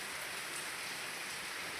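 Heavy monsoon rain falls without pause in a soft, even wash of hiss, moderately faint and steady, with no talk.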